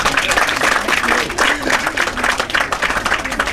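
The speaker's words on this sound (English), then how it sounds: "Big round of applause." Sustained applause from a crowd, dense steady clapping throughout with a few voices mixed in.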